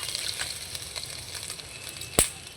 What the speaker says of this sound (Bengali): আদাটা একটু নাড়াচাড়া করে নেব তেলের মধ্যে।